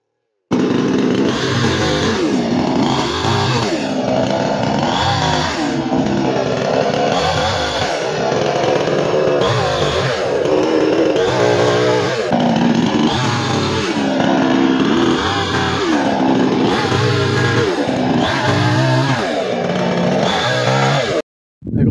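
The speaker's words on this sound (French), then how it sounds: "Je peux maintenant débiter ce qu'il reste à la tronçonneuse." A chainsaw roars loudly and close for a long stretch, its engine rising and falling as it bites repeatedly into branches on a farm.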